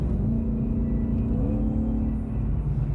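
A 2020 Ford Shelby GT500 engine runs at high revs through a quick paddle shift, with a steady, loud, close mechanical roar and rumble that dips only slightly during the shift, in traffic with no voices.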